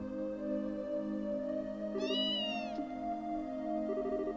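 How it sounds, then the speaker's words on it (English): A cat meows once in the video game Trails in the Sky SC, a short clear rising-falling call over steady game music and ambience. "This must be our cat."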